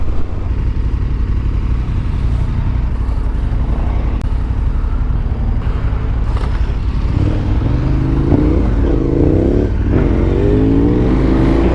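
Motorcycles on a group ride through the Yorkshire Dales accelerate hard out of a corner, one rider pulling a wheelie, their engines loud and close as a steady roar with rising revs over wind rush.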